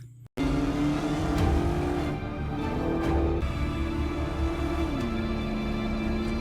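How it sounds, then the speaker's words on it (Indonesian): A fast car speeds along in a chase scene, its engine note holding high and steady with slight pitch shifts, loud and close and continuous for several seconds after an abrupt start. "Jack memang punya mobil ngabret andalannya, sehingga dalam waktu singkat, untuk dia menyusul mobil yang sedang Aleh dan Ros kendarai"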